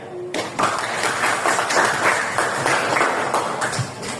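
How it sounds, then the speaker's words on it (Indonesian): Classroom applause from students for a classmate's correct answer, a dense steady crowd of clapping hands that starts abruptly and carries on loudly throughout, with no talking over it. "Coba beri aplaus yang meriah kepada teman kalian"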